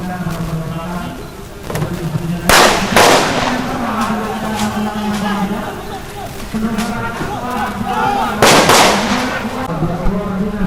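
Explosions and loud bangs during a police anti-terror simulation with simulated rioting protesters, two sharp broadband blasts standing out over steady crowd noise, engines and a droning siren-like tone throughout.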